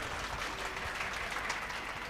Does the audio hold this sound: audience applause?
yes